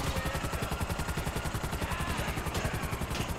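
Rapid gunfire from a police shootout in the video game GTA Online, a dense, steady rattle of repeated shots that continues throughout at a loud, constant level with no voices over it.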